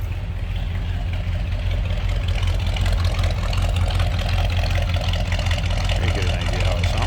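Deep, steady exhaust rumble from a 1963 Ford Galaxie 500 XL two-door hardtop fastback, heard up close from behind the car at a constant idle, loud and continuous with no talking.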